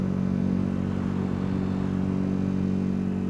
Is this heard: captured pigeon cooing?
no